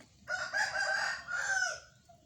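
A single rooster crows once in a long, drawn-out call, moderately distant, against quiet rural background.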